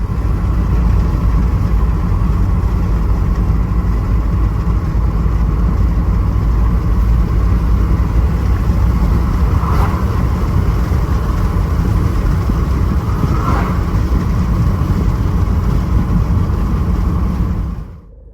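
A Peugeot Expert van's engine runs steadily on a road test after a urea fluid pressure fault was fixed, giving a loud, continuous drone with road and wind rumble from inside the cabin that holds nearly constant until it cuts off at the end.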